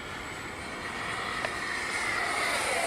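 A model F-104 Starfighter jet flies past inverted at high speed, giving a steady, broad whooshing roar that swells slightly as it passes, alone without talk.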